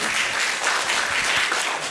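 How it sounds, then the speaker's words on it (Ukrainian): A stand-up comedy audience breaks into brief, loud, steady applause, a thick, even roar of many hands clapping together. "дайте оплески"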